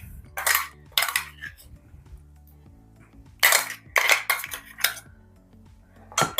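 Beef being mixed with masala in a metal cooking pot for beef vindaloo, giving a few clustered scraping clinks of a spoon against the pot with quiet gaps between them and no talking.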